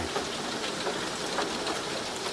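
Heavy rain falls steadily, a dense, even hiss of drops on surfaces with no pauses and no voices.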